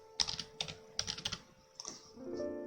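A computer keyboard is typed on in a short burst of about six clicky keystrokes in two quick groups, close and clear, followed by a faint tone as a Windows start menu search finishes.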